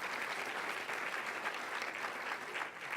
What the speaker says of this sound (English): Well, we'll applaud her spirit,